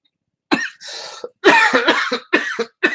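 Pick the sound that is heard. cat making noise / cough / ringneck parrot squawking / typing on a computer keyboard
cough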